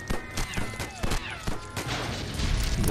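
Shooting objects such as lamps in the video game LEGO Batman, a string of quick sharp shots with breakage and small clattering debris, followed by a rising, rumbling rush of game noise, with speech faintly present.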